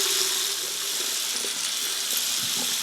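Tap water runs steadily into a sink to warm up, a continuous bright rushing hiss with faint splashing and clinks underneath, close and alone with no talking.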